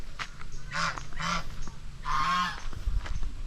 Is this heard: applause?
no